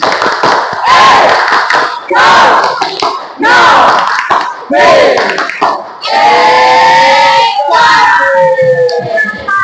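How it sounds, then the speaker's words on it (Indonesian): A class of students performs a rhythmic clapping chant, with bursts of unison clapping and shouted syllables in a repeating pattern, ending in a sustained group shout, loud and close. "Tepuk ekonomi."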